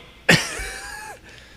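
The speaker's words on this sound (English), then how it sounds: "I'm gonna blow my nose" A person blows their nose once, a sharp loud burst followed by a sustained wet, honking hiss that tapers off after about a second, close to the microphone.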